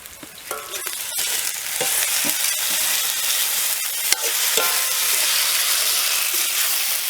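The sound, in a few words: onions and tomatoes sautéing in a pan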